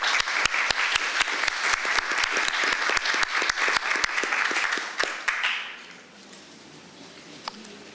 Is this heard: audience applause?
yes